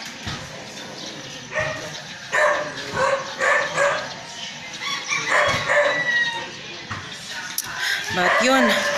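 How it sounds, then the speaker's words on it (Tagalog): A dog barks repeatedly in short bursts nearby, mixed with a rooster and other yard noise, with a person talking at times. "Ang ingay ng aso, no? Ingay talaga ng aso."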